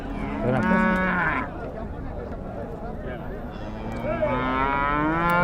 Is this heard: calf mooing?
yes